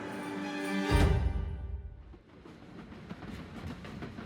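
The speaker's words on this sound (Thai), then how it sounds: "แต่เมื่อขบวนรถไฟได้เคลื่อนตัวจากไป ทิ้งเด็กน้อยไว้เบื้องหลัง" A train pulls away from a station platform, starting with a loud rumbling surge and then settling into a steady rolling clatter of wheels on the rails that stays fairly close.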